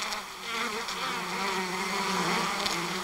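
A dense, steady drone of tens of thousands of honeybees fills the inside of a hive, loud and close with a continuous wavering hum and no voices.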